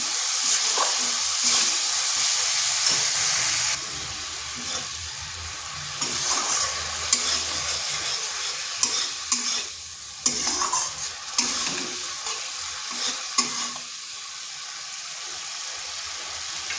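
Dry ground spices fry with a splash of water in a kadai for a pumpkin and masoor dal dish, with a loud sizzle under repeated spatula scrapes and stirs that quiets partway through.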